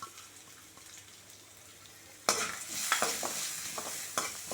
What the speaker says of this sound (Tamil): இதை இதில் போட்டு நல்லா வதக்கிடலாம்